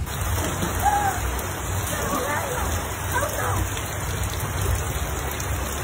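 Steady rain patters down, a continuous hiss with a low rumble beneath it, and faint voices murmur in the background.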